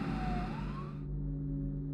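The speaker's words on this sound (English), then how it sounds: "Yes, those are definitely sirens." An emergency siren wails in a video game, a rising and falling tone over a low rumble that cuts off partway through while a steady hum continues, close and fairly loud.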